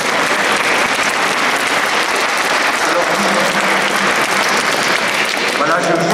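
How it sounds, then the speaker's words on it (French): Sustained applause from a conference audience, a dense loud wash of clapping that fills the whole stretch without a break. "Applaudissez la jeune gonzesse qui a posé la question."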